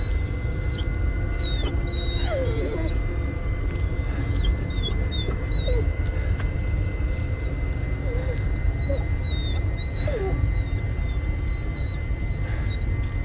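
A dog whimpering in the horror video game Blair Witch, repeated thin high whines and squeaks scattered over a steady ambient hiss, moderately close, with no talking.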